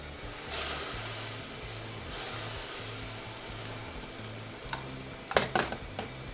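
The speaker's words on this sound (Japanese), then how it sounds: "白ワインはアルコールがあるので、そのアルコール分を飛ばしていきます。" White wine, at least 100 cc, boiling over high heat in a pan for a butter pepperoncino to cook off its alcohol: a soft, steady hiss and sizzle, with a few light clinks near the end.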